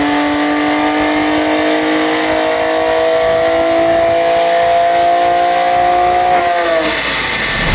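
Stage 3 tuned BMW 340i engine pulling hard under boost, a loud steady rising drone held for about six seconds before the revs drop sharply near the end, with no talk.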